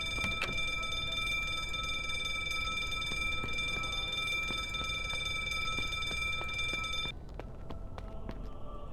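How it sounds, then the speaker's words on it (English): In The Drifter video game, an electronic alarm rings in a steady, continuous high-pitched tone for about seven seconds with faint ticking underneath, then cuts off abruptly, leaving quieter background noise. "Maybe there's an alarm I have to deactivate."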